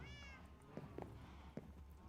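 A cat in the Minecraft video game gives a short, high meow at the start, followed by a few soft game clicks and steps at a quiet level.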